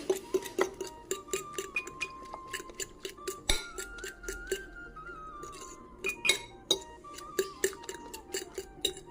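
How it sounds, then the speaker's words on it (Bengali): Two eggs being mixed with salt and chopped green chili in a bowl, heard as a quick series of close, bright clinks of a utensil against the bowl in an uneven beating rhythm, without talk. "এখন এটাকে ভালো করে মিক্সড করে নেব।"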